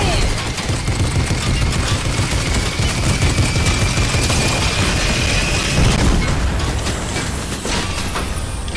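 Continuous loud gunfire in a battle royale video game, with rapid overlapping shots, booms and bursts forming a dense, nearly unbroken barrage close up throughout.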